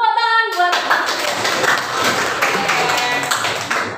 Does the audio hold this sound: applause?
yes